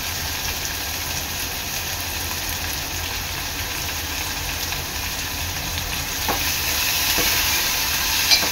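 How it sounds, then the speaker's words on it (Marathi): Finely chopped onion with chopped chillies frying in a pan, a dense, constant sizzle close by, with a couple of faint utensil scrapes near the end. "कांदा चांगला लाल होईपर्यंत शिजवून घ्यायचा आहे।"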